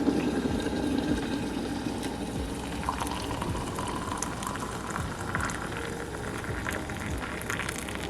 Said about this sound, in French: Pendant que l'eau du biberon est en train de chauffer